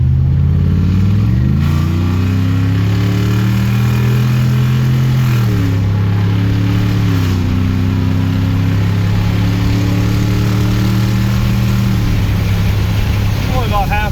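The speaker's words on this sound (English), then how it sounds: "Gonna get up on the freeway here, get a little acceleration test." A 9,000-pound restored truck accelerates on the freeway at about half pedal, its engine drone climbing steadily through the gears in loud, continuous passes close to the cabin.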